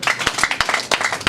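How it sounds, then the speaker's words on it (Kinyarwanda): Audience applause at the official launch event for the film Uruhombo, a steady burst of clapping from a crowd with sharper individual claps standing out, carrying on through the whole moment without pause. "umukomera amashyi"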